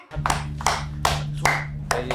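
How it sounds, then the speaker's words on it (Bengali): Several sharp hand claps ring out one after another at a steady pace, about five in two seconds, loud and close. "এই হাতে তালি দে, তুই দে, তুই দে, সব করে হাতে তালি দে"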